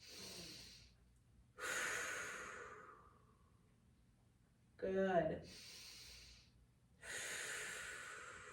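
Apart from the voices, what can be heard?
slow diaphragmatic breathing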